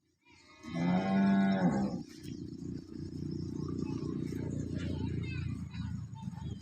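One loud, sustained moo from a cow that calved three days ago rings out close by, then gives way to a steady low rumble that continues to the end.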